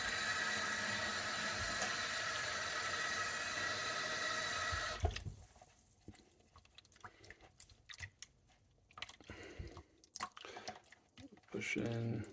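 Tap water pours steadily into a basin for rinsing a soapy hand-knitted yarn item, a loud continuous rush for about five seconds, then stops and gives way to quieter drips, splashes and wet squeezing.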